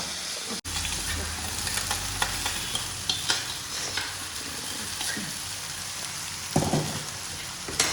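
Fish frying in a pan being stirred: steady sizzling hiss with scraping spoon strokes throughout, loud and close.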